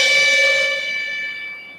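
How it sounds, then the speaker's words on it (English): A cello bow scraped across a cymbal, giving a sustained, eerie metallic ring with bright shimmering overtones and steady pitched tones that slowly fade over about two seconds, heard alone without talk. "And that's the sound of using the bow on the cymbal."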